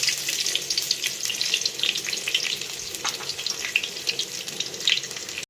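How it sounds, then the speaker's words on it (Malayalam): Onion drops into hot oil with popped mustard seeds for a Kerala-style yam curry, giving a bright, busy sizzle with crackling spits and stirring scrapes, loud and close, no talk. "കടുക് പൊട്ടി അതിലേക്ക് നമുക്ക് ശകലം ഉള്ളി ഇട്ട് കൊടുക്കാം"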